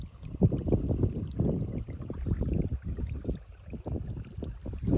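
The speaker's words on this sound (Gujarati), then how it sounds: "હવે આપણે આ ધોરિયામાં પાણી જાય છે" Water gushes and gurgles into a farm irrigation channel in a cumin field, a continuous splashing flow heard close up with fluctuating bursts and no talking.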